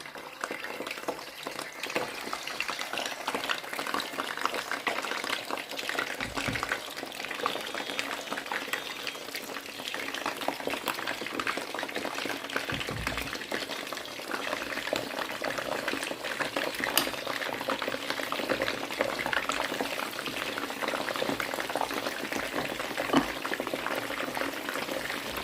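Turkey wings frying in oil in a fry pan, a dense continuous bubbling sizzle, steady and close throughout with a few brief dips, no talk.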